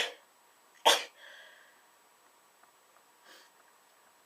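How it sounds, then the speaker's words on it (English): A single sharp sneeze bursts out, followed by a softer breathy exhale and a faint second snort-like puff later, in an otherwise quiet room. "I'm about to sneeze."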